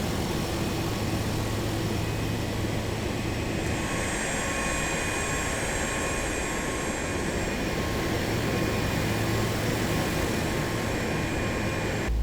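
A light airplane taxiing in Microsoft Flight Simulator 2024, its steady engine drone and broadband airflow hum holding constant throughout with a faint whine above, no talk.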